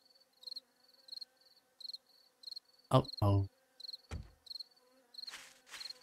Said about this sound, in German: Und ich höre schon wieder Bienen.